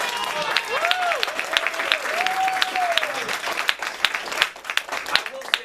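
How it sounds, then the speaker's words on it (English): Audience applause at a spoken-word performance, with whoops and cheering tones rising over the clapping before it thins out toward the end. "Give Tony Ortega a round of applause"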